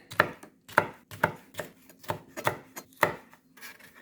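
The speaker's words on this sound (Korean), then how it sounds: "이렇게 반으로 갈라서 사선으로 뚝뚝 썰어줍니다" A knife slicing a red chili pepper diagonally on a cutting board, giving about eight crisp, evenly spaced chops, close and clear, with no talking.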